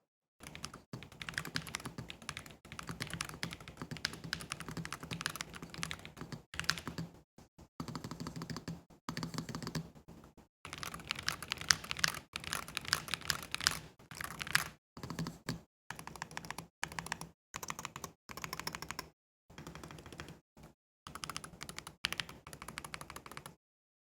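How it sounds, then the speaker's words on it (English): Steady, fast typing on a Nuphy Field 75 HE Hall effect mechanical keyboard, crisp, clacky keystrokes in bursts separated by brief pauses, close and fairly loud, with no voices. "I would just kind of go over the sound test for this keyboard"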